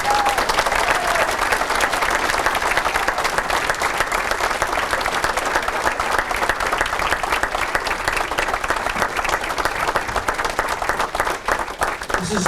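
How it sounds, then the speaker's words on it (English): A banquet hall crowd gives a long, sustained round of applause for hall of fame inductees at an athletic association dinner, with steady dense clapping from many hands and scattered cheers continuing without a break. "let's give them one big round of applause"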